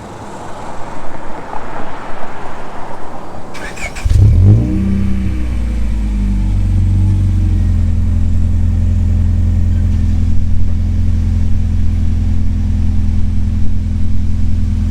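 A car engine cranks and fires at about four seconds after a cold start, having sat unused for a day in hot weather, then settles into a loud, steady, throaty idle with slight revving swells close to the microphone.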